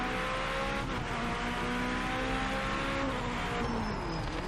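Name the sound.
race car engine in video game Project Motor Racing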